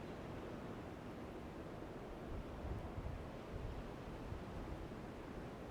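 Waves breaking on a beach, heard as a faint, continuous distant wash of surf with a slight swell partway through, mixed with soft wind.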